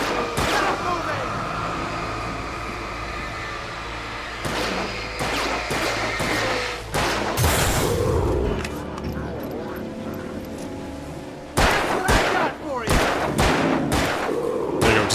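Gunfire in the video game Alan Wake, with repeated sharp shots and heavy blasts in clustered bursts amid continuous background game noise and a voice talking over it.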